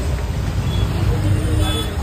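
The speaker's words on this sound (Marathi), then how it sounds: "एवढी ट्रॅफिक कशी झाली काय माहिती." Road traffic is jammed at Kolegaon junction, with buses and cars idling and rumbling nearby and a faint horn toot, all under a person's talk.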